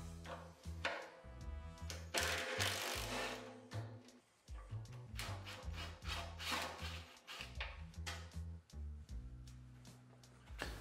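Someone working by hand on a tractor's gas tank mounting bolt, during an electric conversion, makes a close series of metallic clinks, taps and thunks, irregular and alone with no voices.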